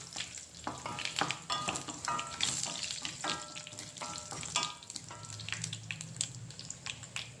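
Dried red chillies crackle in hot oil for a drumstick-leaves dal tempering, a close, uneven sizzle broken by spatula scrapes and sharp pops.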